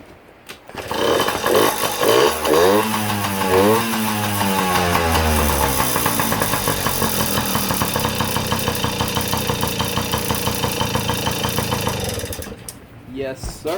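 A Yamaha PW50 dirt bike engine fires up with a rising rev, then settles into a steady, loud buzzing idle for about ten seconds before cutting off.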